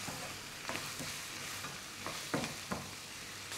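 Onion, garlic, and green and red peppers stir-fried together in a pan give a steady low sizzle, with a few soft scraping stirs of a utensil against the pan rising above it; no one speaks.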